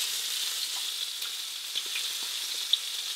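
Pork chop searing in a hot frying pan: a steady, fairly quiet sizzle of spitting fat runs throughout, with a few small pops and crackles.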